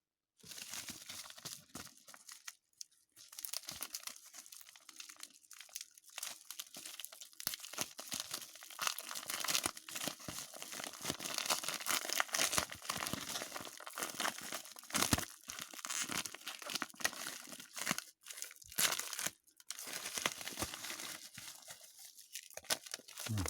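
Plastic bag crinkling and rustling nearly nonstop, close and fairly loud, with a few brief pauses; no talking.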